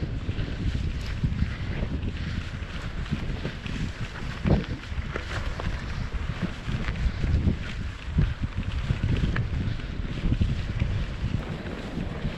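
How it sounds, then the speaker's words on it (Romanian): Wind gusts buffet the microphone outdoors during a bike ride on a gravel road, a steady low roar with rushing swells and no talk. "Dar începe să bată vântul aici."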